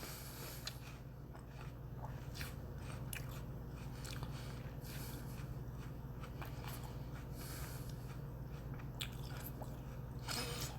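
Someone biting and chewing a crisp apple, irregular crunchy bites and chewing over a constant low background noise, close to the listener.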